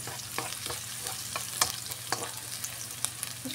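Garlic and onion sautéing for chicken puchero, a steady sizzle with repeated sharp scrapes and taps of a utensil stirring in the pan, close and moderately quiet, with no talking.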